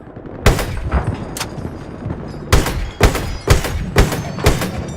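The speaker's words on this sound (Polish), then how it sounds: "Coś z tyłu do mnie strzela." Gunfire comes from behind in Battlefield Hardline, a run of loud sharp shots at uneven intervals with several close cracks in quick succession over steady background combat noise.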